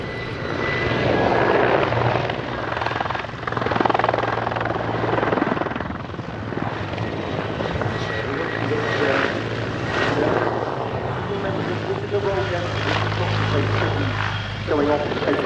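A Hungarian Air Force Mil Mi-24P Hind attack helicopter performs a flying display at an air show, its rotor and turbine roar loud and continuous with a pulsing throb, while a commentator talks over it.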